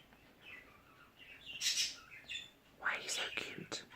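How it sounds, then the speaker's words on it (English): Newly hatched baby quail chirping softly, with a few high thin peeps and tweets in short clusters, faint and close in a quiet room. "Baby quail."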